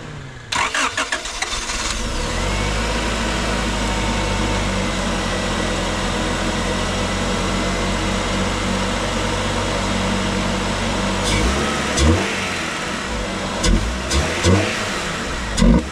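A Honda Si-R wagon fitted with a cold air intake holds a steady, loud engine drone for most of the clip, then gives a few short revs near the end.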